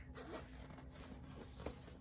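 A zipper is pulled closed on a handmade sewn bag, a quiet, close, brief ratcheting rasp with a couple of short strokes over faint room noise, no talking.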